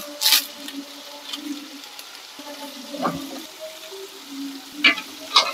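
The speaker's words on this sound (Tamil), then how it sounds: "எண்ணெயிலே கொஞ்சம் நல்லா வதங்கட்டும், மசாலா வாடை எல்லாம் போகட்டும்" Masala powder frying in oil in a home kitchen, a soft steady sizzle with a few louder stirring scrapes and clinks of a spoon against the pan, no talking.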